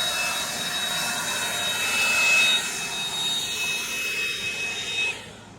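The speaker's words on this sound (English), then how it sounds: "Just blowing off the deck right now." A leaf blower clears a pool deck around an in-ground swimming pool, a steady loud broadband roar holding for about five seconds before cutting off abruptly near the end, with no voices.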